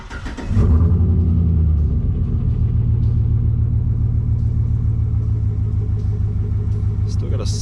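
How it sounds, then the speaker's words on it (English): An LS V8 engine idles with a steady low rumble and a slight misfire, its uneven pulsing continuous after a brief rise at the start, close and loud throughout. "Still got a slight misfire."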